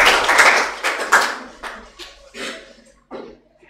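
A classroom group applauds in short bursts of clapping that start loud and dense, then thin out into a few scattered, fading claps nearby.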